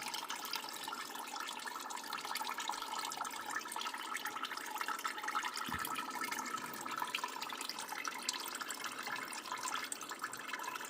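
Coolant drains from loosened hoses on a 2000 Ferrari 360 Challenge race car, a faint, steady watery trickle that runs unbroken throughout with no voices.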